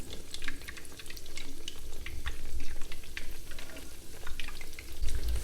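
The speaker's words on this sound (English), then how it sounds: "The oil is about 300 degrees Fahrenheit, and at that point you can add 3 of the eggplant slices to the pan." Eggplant slices fry in oil at about 300 degrees Fahrenheit in a pan, a crackling, bubbling sizzle with scattered spits and pops, close and continuous without speech.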